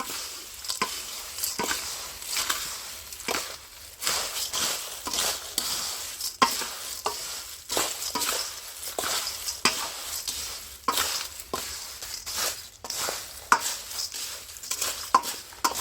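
A sevdo mixture is mixed and stirred in a pan, with a long run of rhythmic spatula scrapes and taps over a soft sizzle, close and steady throughout.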